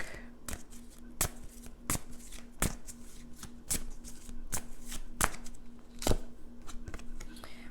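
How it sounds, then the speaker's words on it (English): A Romance Angels Oracle deck shuffled by hand, giving sharp, evenly spaced card slaps about every half to one second over a low steady hum, close and fairly clear. "then we're going to draw some from the Romance Angels Oracle deck"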